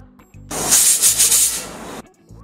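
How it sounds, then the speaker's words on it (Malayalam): A pressure cooker cooking potatoes lets out one strong burst of steam, a loud, steady hiss lasting about a second and a half. Quiet kitchen sounds come before and after it. "ഒരു 3-4 വിസിലാകുമ്പോഴേക്കും ഈ കുക്കറിൽ വെന്ത് കിട്ടും."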